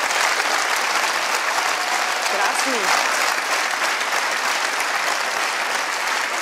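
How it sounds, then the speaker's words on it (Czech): Loud, continuous studio audience applause on a live Czech TV broadcast, steady and dense throughout, with a short spoken word heard over the clapping. "A tomu chci zatleskat hodně."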